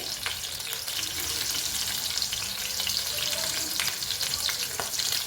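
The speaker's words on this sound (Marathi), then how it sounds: "भेंडी भरून मस्त फ्राय करून घ्यायचं" Stuffed okra (bhindi) fries in a pan over a low flame, giving a steady close sizzle with faint scraping from stirring throughout. No one speaks.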